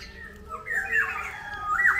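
Black-naped oriole (kepodang) calling in a garden, a harsh squawking phrase rising midway and again near the end over a low background hum.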